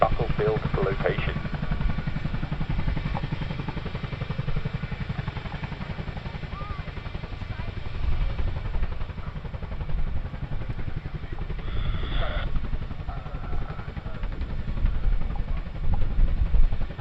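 Chinook helicopter manoeuvring forward and down at the Cosford airshow after dropping an artillery gun, a continuous heavy rotor and engine roar heard from a distance, steady throughout with a brief clatter partway.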